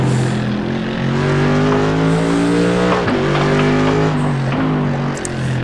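Endurance sports cars racing on the Nürburgring GP circuit, loud high-revving engines with rising and falling pitch and several gear changes as cars pass close by.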